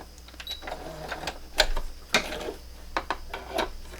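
A sewing machine stitches quilt binding in short, quiet mechanical bursts, with soft whirring and clicking pulses at irregular intervals, faint and close with no talking.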